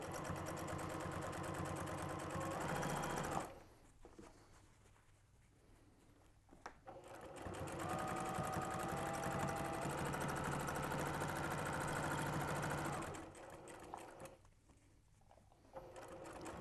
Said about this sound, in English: And now I'm stitching it closed